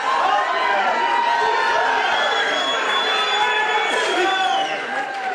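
A large crowd at a Trump rally in Drexel Hill, Pennsylvania, cheering and shouting loudly and steadily, a continuous roar of many voices with whistles piercing through.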